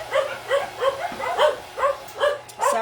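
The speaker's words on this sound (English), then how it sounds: "the dogs are reacting" Several dogs in a home kitchen bark and yelp in a steady series of about eight short, fairly loud calls spaced roughly every half second, with a faint low mixer hum underneath.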